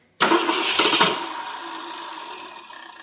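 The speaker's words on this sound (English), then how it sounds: "Oh, look at that. Fires the first time." A 1967 Ford LTD with a 390 FE V8 makes a cold start after twelve years of sitting. It catches abruptly and roars loudly up close, then settles into a rough, fading idle.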